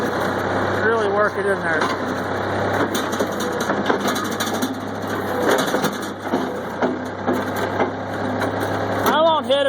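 A backhoe's engine runs steadily at a low, loud drone throughout while it compacts ground, with scraping and crunching bursts over the top and someone talking over it much of the time.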